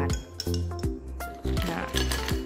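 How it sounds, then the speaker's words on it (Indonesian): Ice cubes dropped one after another into a prepared drinking glass, giving several bright, ringing clinks at irregular intervals, close and clear with no talking. "kita hanya perlu meletakkan es batu ke dalam gelas yang sudah kita siapkan."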